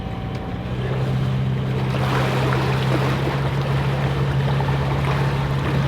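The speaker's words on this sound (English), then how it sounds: "But now it's time to rev up the engine because there's no wind." A sailboat's engine gives a steady drone with a low, constant hum at about 2000 rpm in the Arctic, heard over rushing water and wind, continuous throughout.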